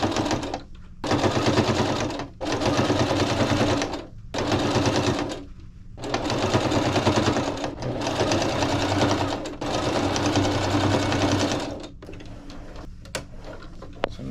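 Sewing machine stitching folded fabric on a handmade floral bag, loud rapid needle chatter in several runs of a couple of seconds each separated by brief stops, ending with quieter handling noises.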